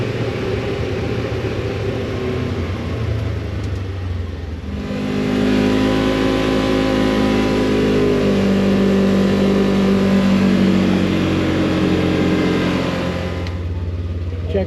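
A Polaris General side-by-side with a glass windshield drives off on a test drive, its mid-pitched engine droning steadily and rising in revs partway through, loud and close throughout.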